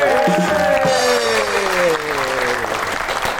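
A studio audience applauds a guest on a comedy talk show, a steady wash of clapping throughout with bright tonal music or voice lines riding over it.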